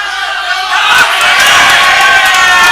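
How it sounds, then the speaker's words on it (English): A West Australian crowd at a men's teams pool final erupts into loud cheering and shouting, rising after a quieter moment and holding steady as a dense wash of voices. "West Australian crowd goes crazy."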